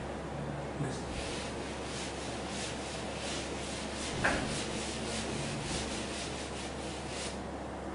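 A lecturer rubbing out writing on a classroom board during a biology lesson, a steady soft scrubbing rasp that continues throughout, with one brief knock partway through.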